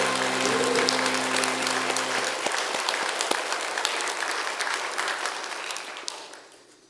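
A church congregation bursts into applause after a hymn, loud sustained clapping over a fading organ chord that gradually thins and dies away.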